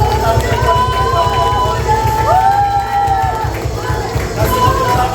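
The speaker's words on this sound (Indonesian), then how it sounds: "Kasih tepuk tangan buat Tuhan Yesus" A church congregation claps in a steady rhythmic beat during a worship service, loud and close, while a voice carries over the clapping.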